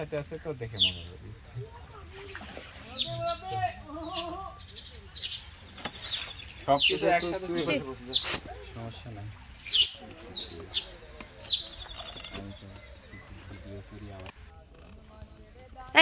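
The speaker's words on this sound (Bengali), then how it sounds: "সাথে হালকা হালকা পাখির ডাক।" Birds call lightly and intermittently in the Ratargul swamp forest near Sylhet, with scattered chirps throughout, while people talk over them for much of the time.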